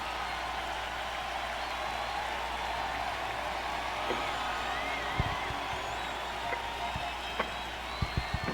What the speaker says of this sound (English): All right, a lot of applause.